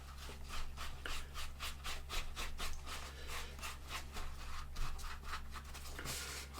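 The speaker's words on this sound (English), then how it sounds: "just take a cloth and rub off the excess dye." A cloth rubs excess leather dye off a beginner's leather coin wallet, giving fast, rhythmic scrubbing strokes that repeat steadily and close up, alone with a low background hum.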